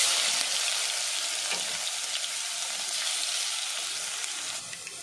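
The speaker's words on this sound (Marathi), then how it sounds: "लसणाला थोडं असं खालीवरी करून थोडं लाल होऊ द्यायचं आहे" Garlic paste fries in hot oil with cumin and mustard seeds, giving a loud, steady, close hiss with faint stirring scrapes, easing slightly toward the end.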